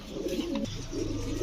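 Female high-flyer pigeons, Gangchil Kaldom birds, give a low, rolling coo at moderate distance over a steady background hum.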